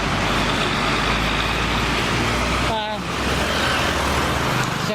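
A city bus passes in dense street traffic on Norodom Boulevard in Phnom Penh, its engine rumble merging into a loud continuous roar of road noise, with a brief brake squeal and someone talking nearby.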